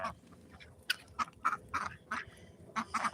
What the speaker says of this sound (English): My oldest duck right there running away from the rest of them.